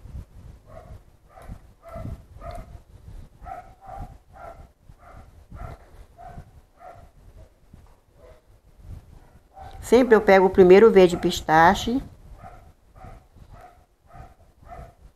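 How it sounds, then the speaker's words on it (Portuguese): Street dogs bark loudly in a brief burst of about two seconds partway through, while someone talks steadily as she paints. "Aí eu não gosto de ver esses cachorros latindo"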